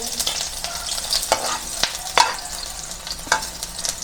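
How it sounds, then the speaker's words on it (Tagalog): Sliced onions dropped into hot cooking oil for a crab soup with misua and patola, giving a steady close sizzle with sharp crackles and spatula scrapes throughout. "Guys, mainit na ang ating mantika. Lagay natin ng sibuyas muna."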